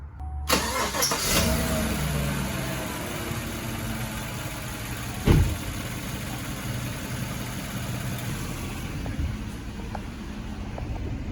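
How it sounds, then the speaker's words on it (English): GMC Sierra with freshly replaced fuel injectors starting up and settling into a steady idle, a close continuous engine hum with a brief clunk midway and no talk. "Let me turn on the vehicle and see what it does."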